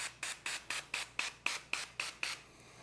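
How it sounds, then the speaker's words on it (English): Duck fat cooking spray misted over a raw turkey in short, even bursts, about nine quick hisses in a steady rhythm, close and clear with no talking. "We're gonna take our duck fat spray. What we wanna do is just apply a light coat just to help that seasoning stick."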